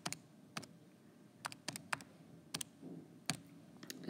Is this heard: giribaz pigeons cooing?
no